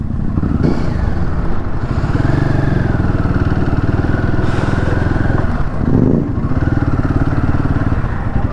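A Golden SM650 motorcycle's engine thrums with a close, steady, pulsing beat while riding on an Indian road, the pitch rising and falling slightly with a few clattering moments and no voices.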